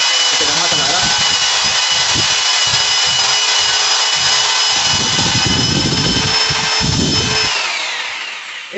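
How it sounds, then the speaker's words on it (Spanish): A power drill fitted with a mixing paddle churns tile adhesive for laying a ceramic floor, giving a steady close whirring and scraping that runs throughout and surges in bursts toward the end. "Y con un batidor, con un taladro, empezamos a taladrar."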